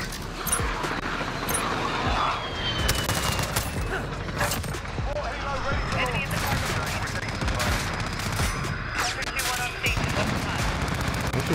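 Rapid bursts of Bizon PP19 submachine gun fire in the video game Modern Warfare, dense loud automatic volleys with game effects and distant shots throughout, under occasional player speech.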